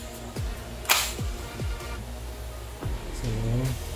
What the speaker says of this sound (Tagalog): Ang ganda ng tunog pag nire-release yung bolt.